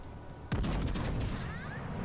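A World of Warships Legends ship fires its main battery in a single sharp, booming salvo. A heavy blast follows a quiet lead-in and then fades into a lingering rumble.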